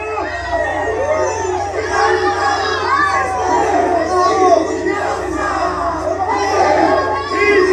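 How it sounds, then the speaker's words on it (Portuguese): A large crowd at an outdoor political rally for Bolsonaro in Sorocaba, Brazil, shouts and chants together loudly and continuously, many voices rising and falling in waves. "grita Lula assim, gente? Lula! Ladrão! Oh, isso, grita"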